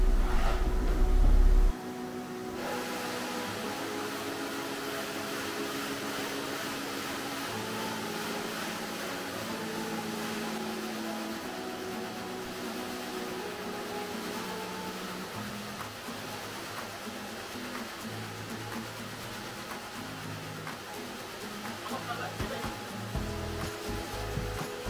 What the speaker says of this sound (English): the Hoover's sucking in the middle and the sander is attached on the side.